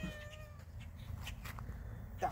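A cat gives a short, faint meow at the start on a dairy cattle ranch in Canada, set against steady outdoor background noise that continues throughout.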